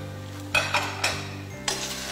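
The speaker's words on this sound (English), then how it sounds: "Saute the shrimp for a while" Shrimp sautéing in a pan without oil, with several sharp clanks and scrapes of a utensil against the pan over a steady low hum.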